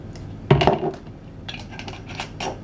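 A spoon stirs honey, water and orange blossom water in a bowl for sweet harchas, with a sharp clinking scrape near the start followed by lighter, quieter clicks and taps against the bowl.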